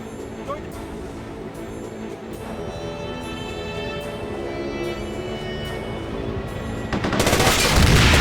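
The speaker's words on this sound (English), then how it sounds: "Tank fire! Tank fire!" Tank cannon and gunfire in a war video game sound as a droning battle bed with a few muffled reports, then swell into a loud, dense roar of fire near the end.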